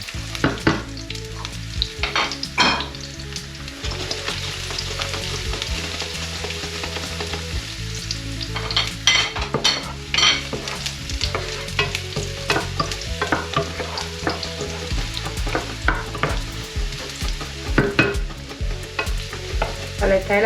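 Garlic cloves frying and sizzling in very hot oil for cigalas al ajillo, a steady dense crackle throughout with occasional louder spits and stirring clatter, close and loud with no talking.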